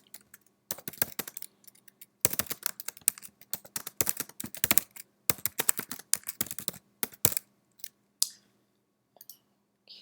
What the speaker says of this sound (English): I'll type something in the subject field